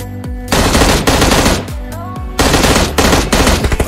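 Rapid bursts of automatic gunfire from an M16 in PUBG Mobile, loud and close, with several sustained volleys separated by short pauses.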